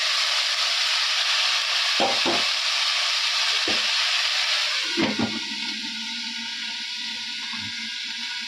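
Rice being fried in a pan gives a continuous sizzle with a few stirring scrapes early on. The frying quiets somewhat partway through, and no one speaks.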